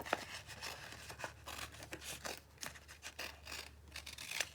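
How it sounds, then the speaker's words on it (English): A big pair of scissors snips through craft vinyl in a quiet series of crisp, irregular cuts and faint rustles, close to the listener with no talk. "So I'll take my big pair of scissors again."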